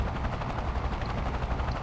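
A helicopter in Delta Force 2 gives off a dense, continuous rotor throb with a rapid pulsing beat. It stays steady and fairly loud throughout, with no speech.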